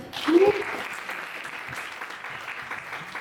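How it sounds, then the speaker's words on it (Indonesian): A university audience of students in Jakarta breaks into applause, starting with a louder burst and a short shout, then settling into steady, moderately soft clapping. "Tepuk tangan"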